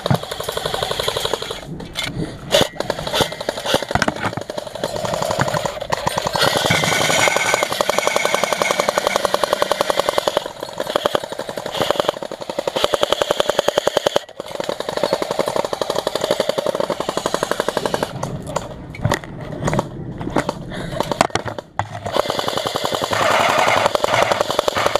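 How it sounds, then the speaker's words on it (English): Airsoft guns firing BBs in rapid automatic bursts, a dense clattering rattle with brief pauses, close and loud for most of the stretch. "Let me get that gun so I can shoot mine."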